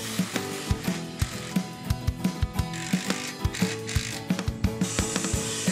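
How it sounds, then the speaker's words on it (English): Wooden parts screwed together with a driver, a rapid series of sharp ratcheting clicks and clacks in an irregular rhythm, close and fairly loud throughout with no talking. "want to screw those bad boys together."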